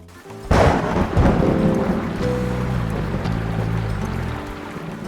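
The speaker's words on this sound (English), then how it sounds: "Well guys, it started raining" A heavy rumble of thunder rolls in and lingers over steady rain, loud and close, with a low drone continuing underneath.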